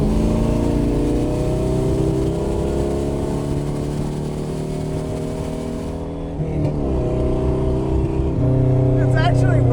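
A car with an LS engine fed by three lawn mower carburetors runs steadily and loud, its low harmonic drone shifting pitch near the end as the revs change, with people talking over it.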